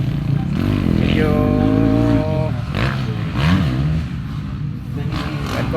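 A Ducati racing motorcycle roars past at a track event, its engine rising in pitch and revving loudly before shifting and fading, with a second engine briefly climbing under crowd noise.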